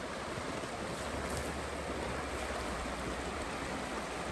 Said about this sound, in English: And a very calm, very cold, icy mountain river.